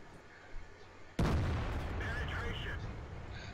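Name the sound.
tank cannon shot in the video game World of Tanks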